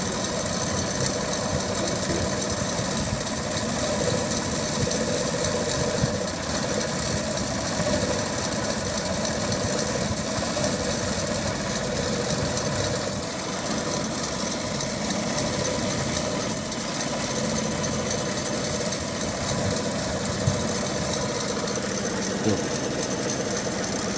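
A Daihatsu Feroza engine idles steadily with its carburetor vacuum hoses being worked on, giving a continuous, even mechanical drone with a faint knocking texture and no revving throughout.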